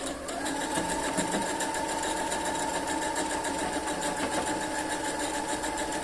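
A sewing machine stitches patchwork fabric, running as a steady, close, continuous whir for the whole stretch with no pauses and no talking.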